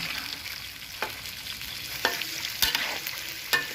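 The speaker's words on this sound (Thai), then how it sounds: "ตอนทอดก็ระวังหน่อยนะ อาจจะกระเด็นได้นะ" Pork intestines with garlic deep-frying in hot oil, a steady faint sizzle broken by several sharp clinks and scrapes of stirring.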